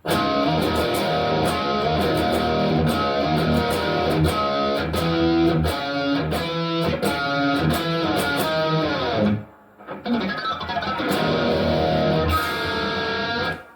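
Distorted electric guitar playing a rhythmic hardcore punk riff with octaves and sharp choppy attacks, briefly cutting out near the end before resuming.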